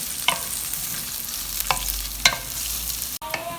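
A medium chopped onion fries in two tablespoons of oil in a kadai, a close steady sizzle broken by several sharp scraping stirs of a spoon against the pan.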